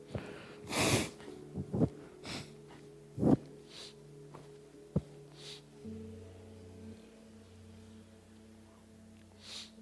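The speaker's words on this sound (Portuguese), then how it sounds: "vou assoar" A man blows his nose into a handkerchief during a church sermon, several sharp snorting bursts and wet nasal blasts with gaps between them, close and fairly loud over a quiet hum of the room.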